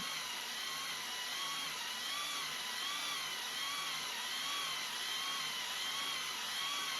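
A drill-driven hone works inside a motorcycle cylinder bore, a steady high motor whine with a rhythmic wavering pitch as the tool strokes up and down, close and constant with no talk.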